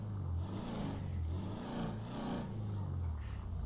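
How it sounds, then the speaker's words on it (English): Deep, rumbling car engine in a GTA roleplay game, revving in steady swells near and loud for the whole stretch, with a low throaty growl and no speech. "Y'all hear that engine?"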